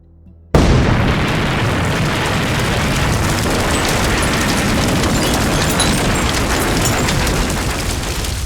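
Explosions from the Japanese surprise attack on the U.S. naval base at Pearl Harbor, Hawaii, on December 7, 1941, burst in abruptly and become a loud, continuous blasting roar that stays dense and heavy throughout, with no voices.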